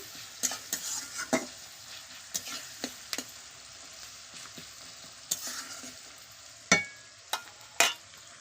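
Onions frying for chicken curry in a pan over a wood fire, a quiet sizzle punctuated by sharp, irregular spatula scrapes and metallic taps, close and clear with no talking.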